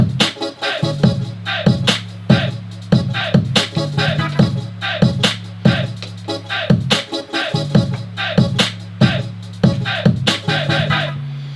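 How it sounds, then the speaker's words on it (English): A programmed drum pad beat plays back at 143 BPM, with loud, steady kick, snare and hat hits over sustained bass tones, looping evenly with no voices. "So now it's at 143, and then it sounds like this."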